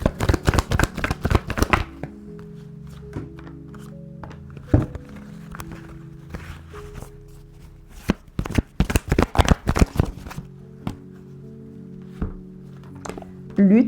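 Tarot cards are shuffled for a monthly reading: a run of fast, loud riffling bursts at the start, then scattered taps and soft thuds over a low hum, followed by another burst of quick riffles.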